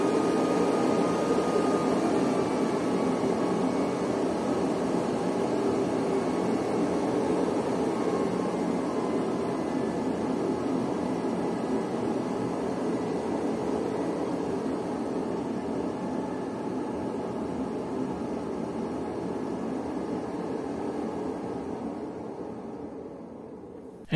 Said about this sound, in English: Let's take a closer look at the fume extractor. It is quite loud, yes